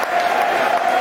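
Football crowd at the Den, Millwall's ground, applauds substituted players during a match against Stoke City: a brief, steady wash of distant clapping and murmuring crowd noise from a large stadium audience.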